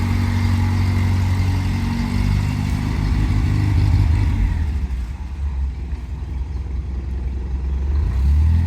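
A 1997 Honda Civic Coupe engine runs steadily up close, a continuous low rumble that dips slightly midway and then swells again, with no talking over it.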